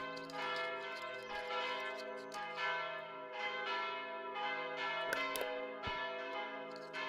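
Church bells in the video game Mon Bazou ring continuously at six o'clock, their overlapping resonant tones swelling and fading in a steady pealing pattern with no voices.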